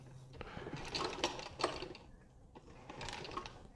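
A hand-cranked sewing machine stitching through a hat, a few uneven bursts of mechanical clatter and whirring at close range, pausing briefly between turns of the crank.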